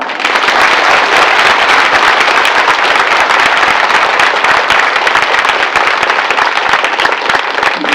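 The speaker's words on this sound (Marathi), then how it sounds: "एकदा जेवढं आपल्याला हे चिंतन कथा आवडली असेल तेवढ्या जोरात टाळ्या वाजवा" Loud, dense applause from a large audience at a religious discourse during a temple festival, continuous crackling claps filling the whole stretch at even intensity with no voices.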